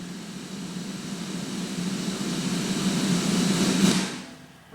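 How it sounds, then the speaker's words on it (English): Reversed snare hit whose reverb tail plays first, a broadband hiss swelling steadily over about four seconds to a peak and then cutting off abruptly, with no other sound. "we have a reversed snare hit with all of this reverb technically going before the attack of it"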